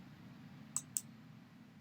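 Two crisp mouse clicks about a fifth of a second apart, made while choosing the Project button and Project Information in the Microsoft Project menu bar, set against a low steady room hum.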